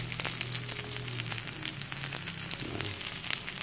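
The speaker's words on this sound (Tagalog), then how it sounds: "Pritong ano tayo ngayon? Daing, nabangus po." Marinated milkfish (daing na bangus) frying in a pan, with a steady crackling sizzle and scattered sharp pops of oil running throughout, close and fairly loud, with no voices.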